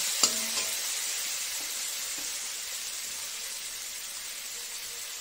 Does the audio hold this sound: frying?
yes